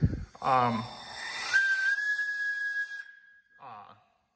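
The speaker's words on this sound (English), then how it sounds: "soldered on a little metal whistle" A thin, steady high-pitched whistle from steam escaping a small metal whistle soldered on a boiling water tank, holding for a couple of seconds after a brief voice, then cutting off.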